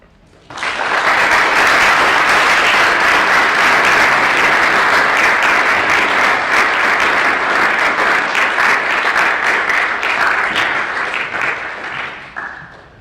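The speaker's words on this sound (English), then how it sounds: "let's give our presenters another round of applause" A large audience at a creativity symposium applauds its presenters in sustained, loud, even clapping that swells quickly and fades out after about twelve seconds.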